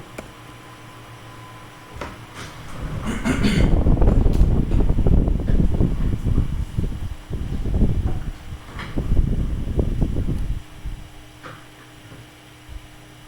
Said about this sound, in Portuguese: pois eu vou diminuir aqui a potência do ventilador